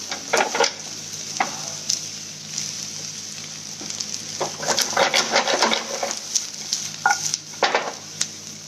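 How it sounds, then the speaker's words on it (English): Brinjal being sautéed for a Nellore-style brinjal fry sizzles gently in a pan, with repeated scrapes and light clinks of stirring scattered throughout. "इसको हम सौते कर रहे हैं"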